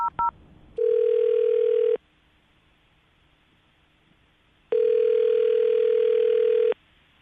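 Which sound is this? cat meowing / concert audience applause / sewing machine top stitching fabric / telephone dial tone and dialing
telephone dial tone and dialing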